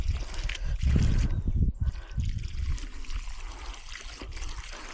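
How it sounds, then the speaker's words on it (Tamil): Water poured by hand onto dry garden beds of cardamom and avocado plants on a farm, a steady trickling splash near the microphone, heavier at first and then tapering to a softer dribble. "மேனுவலாக தண்ணி கொடுத்துட்ருக்கேன் இப்போ."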